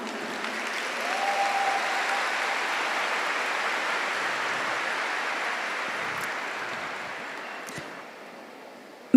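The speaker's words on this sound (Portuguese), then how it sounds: "Isso, aplauda." A church congregation applauding together in a steady, dense clapping wash that swells briefly, holds for several seconds, then slowly thins out near the end, with no voices over it.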